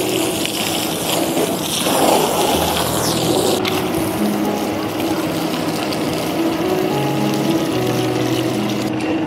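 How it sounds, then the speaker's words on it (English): Water pours over a stone coated metal roof tile in a continuous close rushing splash, loud and steady throughout, with a faint pump-like hum underneath and no talking. "As you can see, the water flows so fast, it wouldn't stay on the surface."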